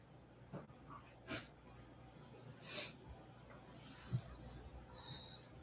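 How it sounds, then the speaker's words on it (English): Several dogs fighting over their toys give faint whimpers, snorts and yips off in the background of a quiet room, scattered and irregular across a few seconds. "The dogs are fighting over their toys"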